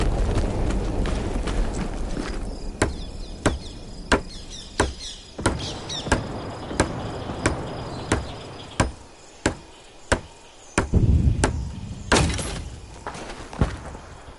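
Hammer blows ring out one after another, roughly every second, as a barricade is built in Hell Let Loose Vietnam, sharp distinct impacts over a low ambient rumble with a brief heavier clatter near the end.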